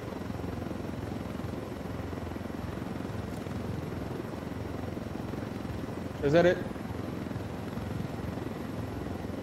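Helicopter in a video game, a steady distant rotor drone running the whole time beneath sparse talk, with a brief louder burst partway through.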